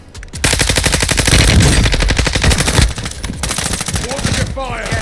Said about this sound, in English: There's somebody shooting from our right